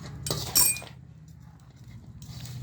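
Navratna pulao being stirred in a pan: a bright metallic clink and scrape of a spoon against the pan near the start, then a soft, low stirring rustle, with no talk.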